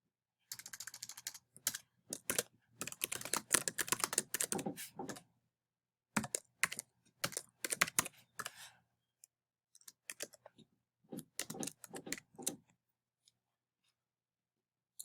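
Bursts of clicky typing on a computer keyboard while entering a name for a map point, with fast keystroke runs separated by short pauses, close and fairly quiet, with no talking.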